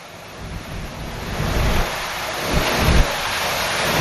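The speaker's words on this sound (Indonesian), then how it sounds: "Hujan dengan intensitas tinggi disertai angin kencang juga menerjang kawasan Pelabuhan Merak" Heavy rain pours with strong gusting wind at Merak port in Cilegon, Banten, a loud continuous roar that swells in low rumbling surges.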